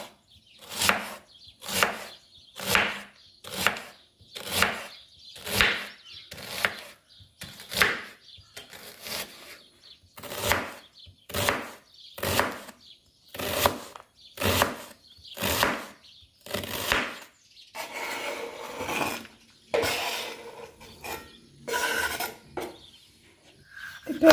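A knife chops onion on a board in about twenty sharp, evenly spaced strokes that sound close and crisp. The strokes grow more irregular and scraping toward the end.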